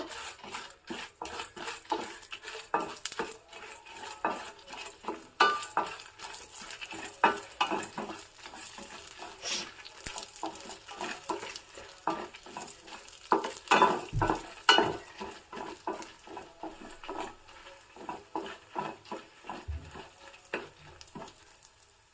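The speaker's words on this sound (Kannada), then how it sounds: "ಒಣಮೆಣಸು ಖಾರಕ್ಕೆ ಬೇಕಾಗುವಷ್ಟು ಮತ್ತು ಒಂದು ಡ್ರಾಪ್ ಆಗೋಷ್ಟು ಎಣ್ಣೆ ಹಾಕಿಬಿಟ್ಟು ಚೆನ್ನಾಗಿ ಹುರ್ಕೋಬೇಕು" Dry red chilies roasting in a drop of oil, stirred with a spoon: a continuous scraping, rhythmic stir over a soft sizzle, close up and with no talking.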